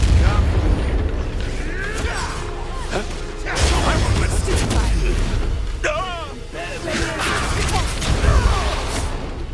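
A Bombarda spell explodes in Hogwarts Legacy, a heavy booming blast inside a dense game soundtrack, with further crashing impacts and voices talking around it.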